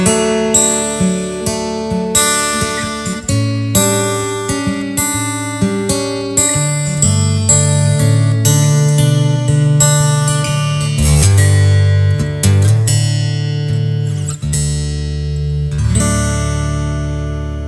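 An electric guitar plays through an AER Compact 60/4 acoustic amplifier with its color switch engaged. Strummed chords and picked notes ring out loud and full, with rhythmic attacks and sustained bass tones and no talk.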